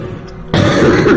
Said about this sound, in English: Excuse my bad cough.